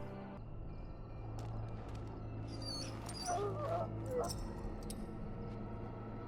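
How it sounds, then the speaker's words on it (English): A dog in the Dragon Age Origins game whimpers in a few faint, high, wavering cries midway, over a quiet low game background hum. "Now I can treat the dog properly, poor fella."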